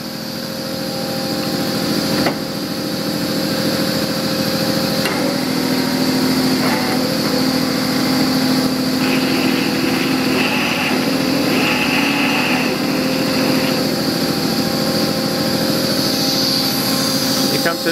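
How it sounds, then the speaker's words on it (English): A Spiral Helix Sport Gorelocker sheet-metal machine runs steadily and loudly with a constant mechanical whine and hum, a valve spinning its wheel; a brief knock near the start and faint shifting tones mark the operation, with no talk. "I'll just show you how it works. This valve spins the wheel."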